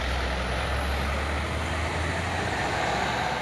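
A loaded tanker truck climbing a steep uphill road, its engine a steady heavy low drone, laboring and continuous at close range with no talk.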